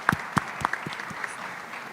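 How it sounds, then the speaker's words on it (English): Applause from a conference audience for the speakers at an annual meeting on African special economic zones, with a few distinct nearby claps over a soft, continuous bed of clapping in the hall. "let me thank the three speakers again and give them a warm applause"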